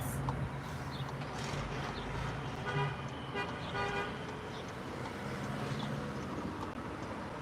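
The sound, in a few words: street traffic with car horn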